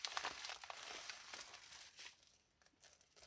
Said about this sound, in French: je vais vous montrer le la grande enveloppe qui est le cadeau